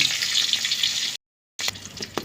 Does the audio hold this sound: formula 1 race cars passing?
no